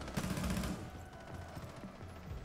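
Gunfire in the tactical shooter Rainbow Six Siege crackles in a quick automatic burst at the start, then trails off into quieter mechanical clicks and low game ambience.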